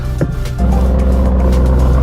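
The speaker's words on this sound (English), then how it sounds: "Just listen to that exhaust purr" A 2020 Lamborghini Urus 4.0 V8 BiTurbo with 650 hp, its exhaust giving a deep, loud, steady purr that swells after a brief softer start and holds close and even.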